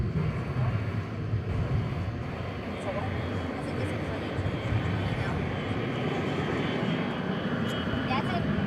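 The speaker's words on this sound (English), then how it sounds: "That's a Boeing 752 from Houston, IAH." A UPS Boeing 757-200 arriving from Houston lands on runway 18 at DFW Airport at night, its engines a steady broadband roar throughout, with people talking over it.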